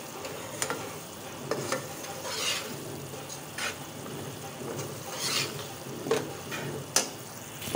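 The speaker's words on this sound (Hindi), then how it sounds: "इसको ऐसे ही मुसलसल हिलाते रहना है।" Semolina halwa being stirred in a pan, a continuous soft scraping and faint sizzle broken by several sharp utensil clicks against the pan.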